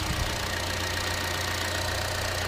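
A 2014 Chevrolet Cruze's 1.4-liter turbocharged engine idling under the hood, a steady, even mid-low hum with no revving, heard close and alone.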